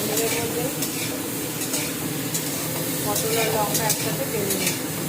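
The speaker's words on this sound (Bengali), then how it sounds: "পটল তেলের মধ্যে ছেড়ে দেবে পটল আর লঙ্কা একসাথে ভেজে নিচ্ছে কালো জিরে দিয়ে" Pointed gourd and chilies frying in oil with nigella seeds, a steady close sizzle with frequent crackling pops and stirring scrapes, a voice speaking underneath.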